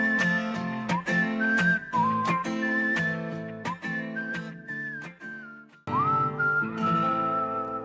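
Whistled melody leads the track, a bright tune over steady band accompaniment, loud and clear with no talking throughout.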